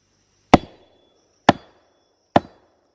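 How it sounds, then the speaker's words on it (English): Three sharp, resonant knocks from striking the trunk of a telephone tree in the wet Amazon jungle, spaced about a second apart, each ringing briefly before fading, with no talk over them. "They call it a telephone tree because of the noise."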